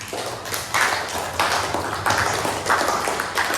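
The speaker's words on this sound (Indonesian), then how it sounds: "Tepuk tangan untuk kelompok merah." Classroom of children clapping for the red group during a primary school lesson, a steady dense patter of small hands in sustained waves that swell and dip over a few seconds, fairly close and without talk.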